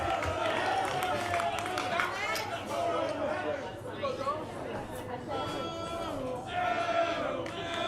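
Crowd at a high school baseball game, the Jaguars against the Dolphins, a busy murmur of cheering and shouting voices that carries throughout, fairly loud and mixed with overlapping chatter.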